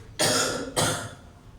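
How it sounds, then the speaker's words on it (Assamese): Two sharp, close coughs in quick succession, the second slightly weaker, trailing off into quiet room tone with no talking. "কাহ এটা আহি আছে খুব"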